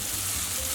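Chicken breast pieces hit a hot pan for Chinese special fried rice, giving a brief, steady, close sizzle.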